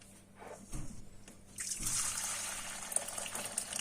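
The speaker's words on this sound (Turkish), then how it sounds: "1 litre kadar su koyuyoruz" About a litre of water poured into a deep bowl for pickling brine, a faint trickle at first swelling into a steady close splashing pour.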